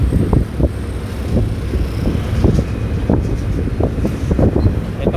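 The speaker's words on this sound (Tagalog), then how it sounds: "sobrang sobrang lakas ng hangin" Strong gusting wind buffets a drone's microphone during a flight near Jones Bridge, giving a loud, continuous low rumble with irregular thumping surges throughout.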